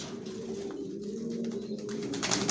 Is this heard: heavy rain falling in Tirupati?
no